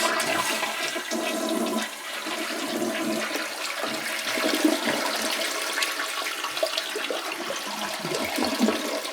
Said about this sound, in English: If you didn't have that little float, it'll actually flush twice.